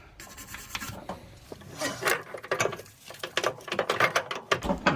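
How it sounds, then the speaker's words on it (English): Wire brush scrubbing dirt and gunk off a Subaru WRX STI front coilover and steering knuckle, close rasping strokes in quick irregular bursts that grow busier toward the end, no talking. "we're gonna clean up this knuckle with the wire brush again, get all that dirt and gunk"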